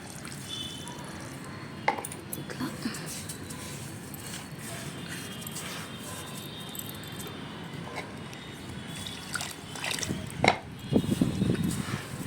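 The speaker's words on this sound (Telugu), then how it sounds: "ఇట్లా కొన్నే పోయాలి నీళ్ళు" Water poured onto sugar in a pan while making boondi laddu syrup, a soft steady liquid trickle with faint drips and light clatter, growing a little louder and busier near the end.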